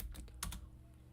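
Keystrokes on a computer keyboard as a web address is entered, a few quick clustered taps then a brief pause, close and fairly quiet with no talking.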